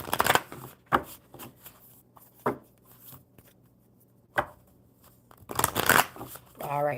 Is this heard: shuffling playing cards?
yes